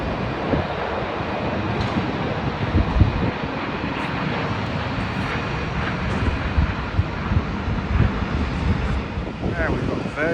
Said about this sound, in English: Glorious plane, Airbus A350.